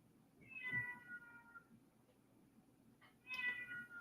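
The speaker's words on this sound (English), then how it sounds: "My cat is absolutely freaking out." An upset house cat with separation anxiety meows twice indoors, drawn-out whiny cries a few seconds apart, fairly faint and alone without talk.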